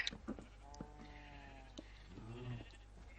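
Sheep in a Minecraft SkyBlock world bleat in a few wavering calls: a long quavering one first, then a shorter one later. They are moderately clear against a low game background.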